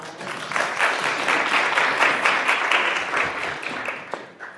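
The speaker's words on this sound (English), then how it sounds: "Can you have a round of applause?" An audience at an evening legislative budget discussion gives a steady round of applause, many hands clapping together for several seconds and fading slightly at the end.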